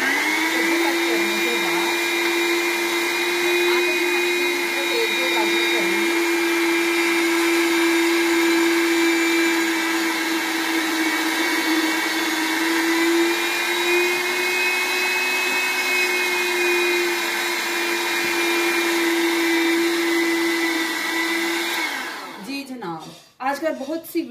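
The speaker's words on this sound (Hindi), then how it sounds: "आज मैं सहूलत के लिए कद्दूकस करूंगी इलेक्ट्रिक मशीन के साथ।" Electric grater machine shredding carrots for halwa, a steady loud whining motor drone held for over twenty seconds, then winding down and stopping with a few clunks at the end.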